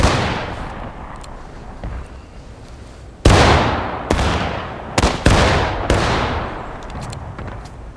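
Rifle volleys in a War of Rights skirmish, loud and close, with several sharp cracks that fire at irregular intervals and tail off into long rolling echoes.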